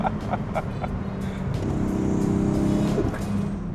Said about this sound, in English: And then just blows the tires off second gear.